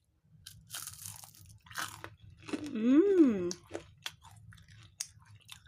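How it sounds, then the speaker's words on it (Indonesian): Crunchy sweet corn fritters are chewed close to the mic, with crisp bites and crackly crunching in short bursts, with a voice humming or speaking briefly in the middle. "Sudah di mulut itu kriuk kriuk kriuk."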